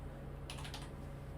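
A short burst of typing on a computer keyboard to log in to a LeChess account: a few rapid key clicks at close range, with quiet surroundings before and after.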